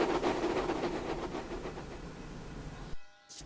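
A long freight train of over twelve cars loaded with supplies such as hay bales and milk rolls along the rails with a rhythmic clatter that fades gradually, then drops out suddenly.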